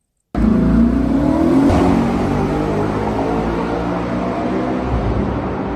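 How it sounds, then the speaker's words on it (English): A naturally aspirated Audi RS4 V8 wagon engine bursts in suddenly with a loud, deep rev that rises in pitch, then settles into a steady, throaty roar heard close up. "what makes this car sound this amazing"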